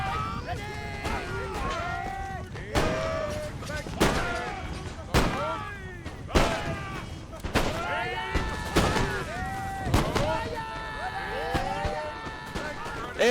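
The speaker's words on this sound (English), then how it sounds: "Pretty intense line fire here." Repeated musket volleys from British and Ottoman line infantry in an Empire: Total War battle crack out one after another. The sharp reports come every second or so under a busy battlefield din, and a voice talks over them.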